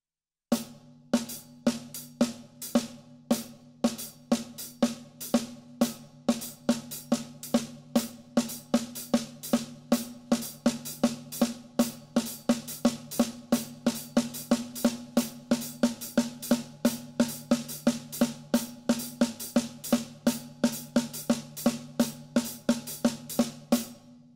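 A drum kit plays a steady 4 against 5 polyrhythm without a metronome: a dense, even stream of crisp cymbal and snare strokes over a droning low tone, alone and fairly quiet throughout.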